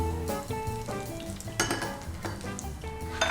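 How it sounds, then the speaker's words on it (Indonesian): Hot oil sizzles and spatters steadily as catfish fries, while metal utensils clink and scrape against a pan, close by, with no talking. "Sekarang kita akan goreng langsung"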